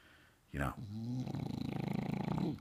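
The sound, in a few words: dog snoring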